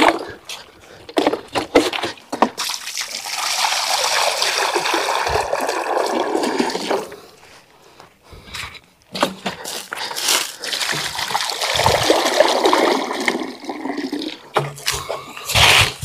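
Water poured into small troughs set out for monkeys on a hill, a steady splashing pour that runs for several seconds, pauses, then resumes in a second long gush, close by and fairly loud.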